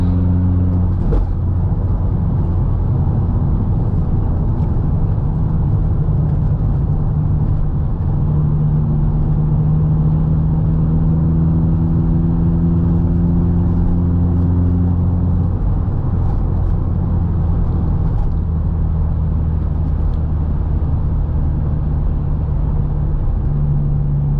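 Failing, worn-out engine of a Mk2 wagon while driving along Contermanskloof Road, a loud steady rumbling drone with shifting low tones as the revs rise and fall, close and continuous with no talk.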